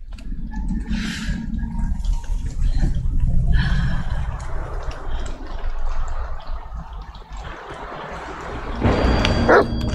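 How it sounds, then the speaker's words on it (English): A dog in The Medium video game barks and yips in short bursts, fairly close, amid game ambience and rustling, with a sharp clatter near the end. "Oh, we gotta follow the dog."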